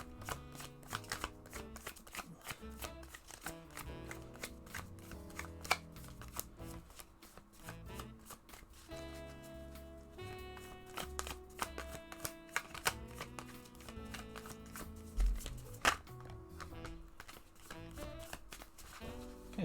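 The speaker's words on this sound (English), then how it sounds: "If I can go through the entire deck and shuffle it, that's one shuffle." A tarot card deck being shuffled by hand, a dense run of quick riffling card slaps and flutters continuing steadily throughout at close range, with background music playing underneath.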